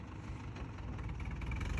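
A tractor engine idles on a farm, giving a steady, close low rumble that swells slightly louder toward the end, with no voices.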